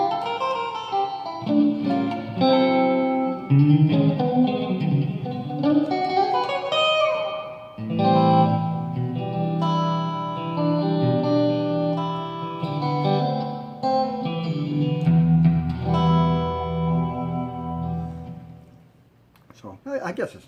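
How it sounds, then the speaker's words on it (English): Yamaha REX 50 digital effects unit on its plate reverb setting, processing a continuous melodic instrument line with sustained tones and lingering reverb tails throughout, fading at the end. "Reverb 4 plate. So this is plate reverb."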